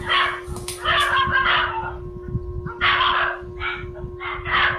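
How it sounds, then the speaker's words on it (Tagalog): Several dogs bark in bursts, fairly close, with a steady electrical hum running underneath throughout. "Ang tagal lang, kaya palang ingay ng mga aso."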